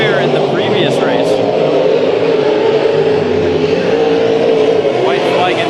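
Race cars roar continuously through a heat race at Bakersfield Speedway, a loud sustained engine drone with passing cars rising and fading, while a commentator talks over it throughout.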